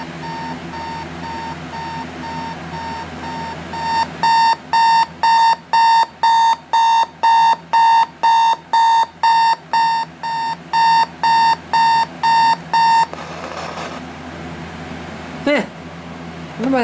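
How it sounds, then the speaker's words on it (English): A GE P'Jammer 7-4607WHA clock radio sounds its alarm up close: a loud run of about fifteen evenly pulsed electronic beeps over a steady background hum, then it stops. "Let's go ahead and listen to the alarm now."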